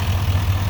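A 2018 GMC Sierra 2500 Denali HD with a 6.6-liter Duramax diesel engine idles, giving a steady low, even rumble heard close and alone in a brief moment.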